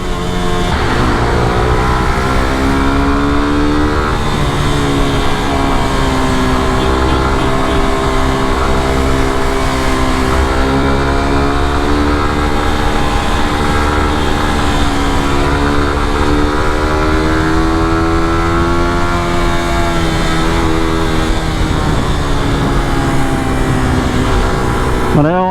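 A motorcycle engine runs on a road with a loud, close, continuous drone whose pitch sways up and down as it revs throughout.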